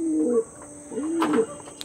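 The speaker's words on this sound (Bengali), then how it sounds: "প্রচুর ওল্ড জেনারেশনের পায়রা" Pigeons of an old-generation breed coo softly at close range, giving two short, low, throaty calls with a brief pause between them.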